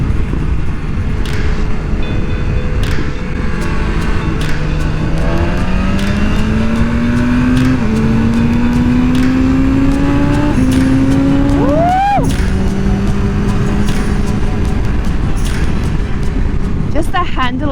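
A brand new 2022 BMW S1000RR superbike revs and accelerates close by, its engine note climbing steadily through the gears with brief drops at each shift, a loud continuous roar over wind noise with a person talking intermittently.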